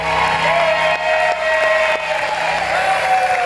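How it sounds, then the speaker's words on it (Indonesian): A studio audience on the Family 100 game show applauds contestant Farul with steady clapping and crowd noise, with a brief cheer near the end. "Tepuk tangan untuk Farul."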